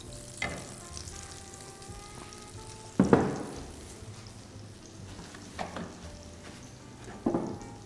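Butter sizzling in a hot pot on the stove: a quiet steady fry with several sharper crackling bursts as food or stirring hits the fat, heard close and alone.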